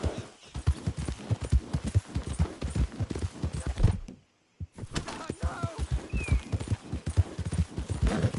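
Horse hooves clip-clop in a steady gallop rhythm in Red Dead Redemption 2, loud and close, breaking off briefly to silence midway before resuming with faint bird calls and a short whinny-like sound.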